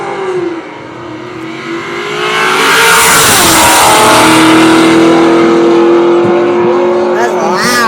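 A drag race car with a heavy, loud exhaust accelerates hard, its roar rising in pitch and swelling to a sustained, very loud blast as it passes nearby at a racing event.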